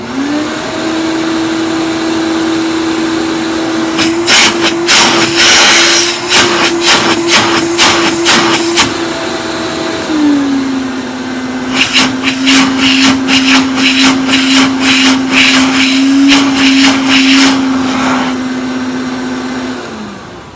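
A Kenmore Power-Mate two-speed vacuum cleaner runs with a steady loud motor whine that drops in pitch midway as the speed changes, with bursts of rattling clatter over the drone.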